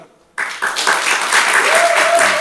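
Studio audience at a French podcast breaks into applause after a short silence, voting by clapping for the funniest guest; the clapping builds and holds steady, with a faint whistle and some voices mixed in.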